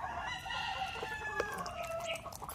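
Bulik gamecock roosters crow and cluck in a pen, a long drawn-out crow with overlapping calls from other birds, moderately near, with steady background noise and no talking.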